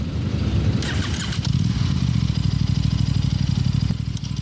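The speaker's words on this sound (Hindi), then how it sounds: "fire the engine, first gear" An Aprilia Tuono 457 motorcycle engine starts up close by with a quick crank and catch, then settles into a steady, throbbing idle with a rhythmic mid-low pulse and light mechanical clatter.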